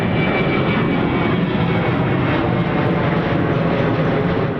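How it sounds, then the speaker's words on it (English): A fixed-wing airplane flies low overhead near Louisville airport, a loud, steady broadband jet roar filling the whole stretch without letup and no talk over it. "see planes flying over her house"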